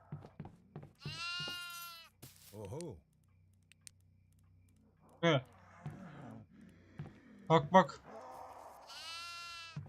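Goat bleating in the horror video game Devour, several loud wavering bleats spread across the clip, mixed with someone talking and occasional sharp thuds.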